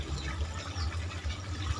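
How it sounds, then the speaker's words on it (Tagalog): Water is poured into a plastic bottle for a hydroponic setup, a soft continuous trickle and gurgle of filling liquid, quiet and close, with no speech. "Lagyan natin ng tubig."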